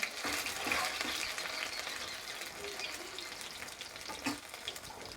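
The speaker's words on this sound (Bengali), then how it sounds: "লাল লাল করে ভাজতে হবে।" Food frying in a pan until deep red-brown, a steady close sizzle with broadband crackle throughout, occasional soft stirring or splashing touches, no voices.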